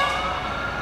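Siren of Burnaby Fire Department Engine 31 responding to a code 3 call, a loud sustained wailing tone with a steady low engine and road rumble beneath, brief and without talk.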